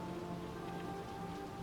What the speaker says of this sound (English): I like the rain. Pretty cool stuff.